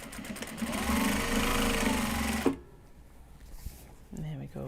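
A sewing machine stitches a Japanese fabric bag in a steady, fairly loud whirring run for about two and a half seconds, then stops abruptly, leaving quiet room sound and a soft voice near the end.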